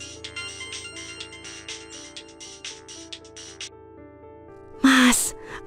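A mobile phone ringtone plays a bright, repeating electronic melody at moderate volume for several seconds, then stops, followed by a short, louder burst of sound.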